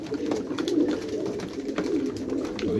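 Pigeons, grey-blue birds, cooing softly while eating at evening feeding time: repeated low, murmuring coos overlapping one another, close and fairly quiet, with faint pecking clicks and no voices.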